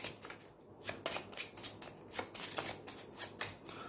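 A deck of game cards from a football-themed board game is shuffled in quick bursts of riffling snaps, soft and close, repeating steadily for several seconds with no talking.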